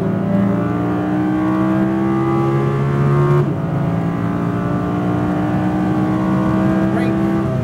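An Audi R8 V10 RWD accelerates at full throttle on the Speed Vegas track: a loud, close V10 engine rises in pitch, makes a quick gear shift partway through, then climbs again.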